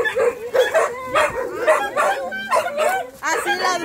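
Several dogs bark and yip in quick, repeated bursts close by in a narrow alley, loud and overlapping, with people talking underneath.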